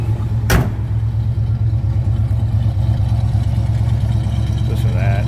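A 1969 Pontiac Firebird Convertible's engine idles with a deep, steady rumble heard close up from the rear, loud and constant, with a brief sharp knock early on.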